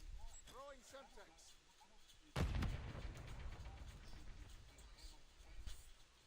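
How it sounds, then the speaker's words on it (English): A Semtex grenade in a video game detonates with a sharp, booming blast partway through, after some muffled chatter and small game noises, and leaves a rumbling tail under quiet voices. "Throwing Semtex."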